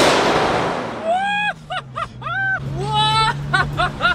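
A Toyota Supra with a stage 3+ tune roars through a tunnel, sharp exhaust pops and crackles bursting over rising and falling engine tones, loud and echoing, with excited vocal whoops mixed in.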